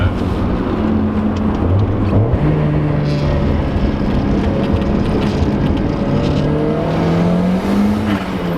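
Car with a freshly installed engine spinning its wheels on a wet road in third gear, rear end kicking out; a loud, steady engine roar with a rising and falling pitch runs through the whole stretch, with no talk over it.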